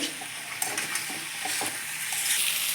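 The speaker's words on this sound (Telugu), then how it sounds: "లో ఫ్లేమ్లో ఫైవ్ మినిట్స్ బాగా వేయించుకోవాలి కలుపుకుంటూ" Chicken pieces coated in masala fry on a low flame with a continuous sizzle, while a spoon scrapes and stirs the pan in scattered light clinks, with no voices.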